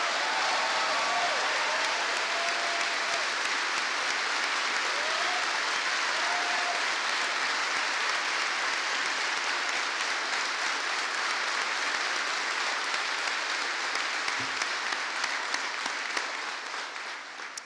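Sustained applause from an audience honoring soldiers at a presidential address at a US Army garrison in Yongsan, Korea, a dense steady roar of many hands that holds at full level throughout.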